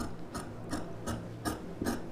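Scissors snip through blouse fabric while cutting a round neck shape, about five quiet, evenly spaced crisp clicks over a faint background.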